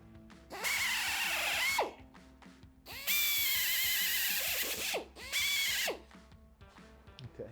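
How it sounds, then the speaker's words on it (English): An electric drill bores sideways through metal like an end mill during final welding prep on a Sportster motorcycle frame, whining loudly in three sustained bursts with short pauses between, alone and close. "you're almost using your drill as an end mill to kind of cut away"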